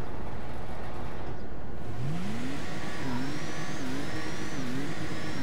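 Tuned Albany Washington car engine in GTA 5, revving up loudly from idle with a rising pitch, then pulsing through repeated throttle blips over a steady engine drone.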